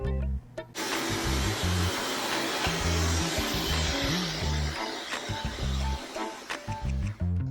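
After a beard trim, a blower pushes off the loose clippings with a loud, steady rushing whoosh that stops for a moment and starts again, close by and drowning out everything else.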